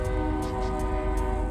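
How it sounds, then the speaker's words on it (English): A passing train sounds its horn in a long, steady, loud blast with strong sustained harmonic tones over a low rumble of rolling rail cars, continuous throughout. "Apologies for the train."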